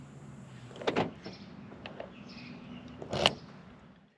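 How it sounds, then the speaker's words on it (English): Key turning in the lock of a Nissan car door with a push-button start, giving a couple of close mechanical clunks and clicks separated by a quiet pause, with no voices. "Then put the key in the door to unlock."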